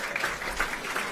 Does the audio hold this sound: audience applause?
yes